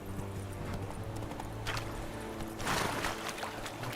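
Roach the horse trots in The Witcher 3: Wild Hunt, rhythmic hoof clip-clops over steady game ambience with a brief louder rushing swell near the end.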